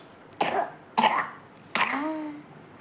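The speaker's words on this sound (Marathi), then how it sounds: "खूप खोकला येतो त्याला" A young boy with a bad cough coughs three times, short harsh bursts spaced apart, close and fairly quiet, the last trailing into a throaty rasp.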